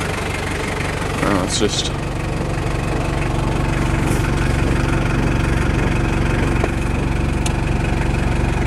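A Toyota Hilux Surf SSR-X with a 3.0 inline-four diesel idles warm under the hood, a steady close rumble with a faint clatter, while someone speaks briefly over it.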